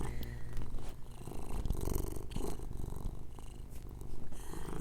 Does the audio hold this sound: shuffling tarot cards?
no